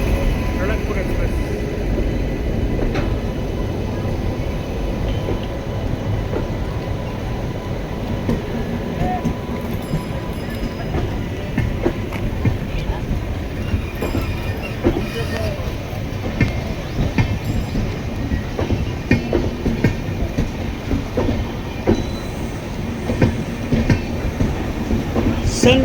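The Ranakpur Express runs on rails with a continuous rumbling roll and rhythmic clickety-clack from the wheels, steady and close throughout.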